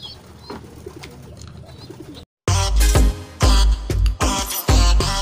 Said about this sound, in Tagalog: Mga kalapatids.